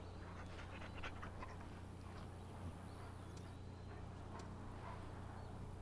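A dog in a wagon trail video game pants steadily and gives soft whimpers, faint and close over a low background hum.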